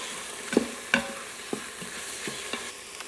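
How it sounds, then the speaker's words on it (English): Mushrooms sautéing in a hot Instant Pot, stirred a few times; soft scrapes and clinks of a spoon against the inner pot ring out every half second or so over a faint steady sizzle, close and fairly quiet, with no talking. "You want to give this a stir just to make sure nothing burns on the bottom"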